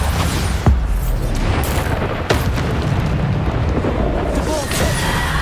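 A Bombarda blast spell goes off in the Hogwarts Legacy game, with sharp booming bursts near 0.7 and 2.3 seconds over a continuous roar of combat noise and effects.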